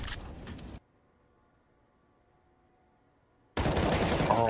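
Automatic gunfire in the video game CS:GO comes in two dense bursts, one at the start and one at the end, separated by a near-silent gap.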